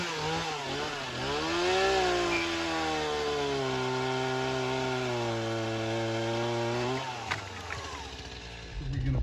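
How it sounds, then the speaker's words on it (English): A chainsaw runs steadily for most of the stretch, with its pitch rising and settling as it bites through wood, then cuts off near the end. The sound is loud and continuous. "And this is why we carry a chainsaw."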